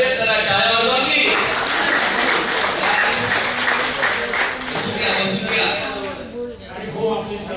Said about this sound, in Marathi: अध्यक्ष आले जरा टाळ्या वाजवा की.